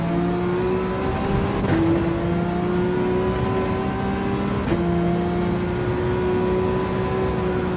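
A Porsche 911 RSR race car at full throttle on Dragon Trail Seaside in Gran Turismo 7, its engine droning loud and steady with two quick gear shifts, and no talk.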